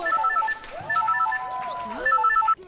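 Mobile phone ringtone in a film scene from a comedy sketch: a bright, repeating electronic melody in short bursts, loud and close, with a brief voice break in the middle.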